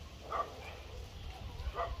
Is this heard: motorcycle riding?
no